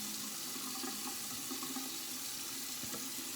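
Water running steadily from a tap into a sink while a razor head is wetted for shaving, a close, continuous hiss and splash with no voices.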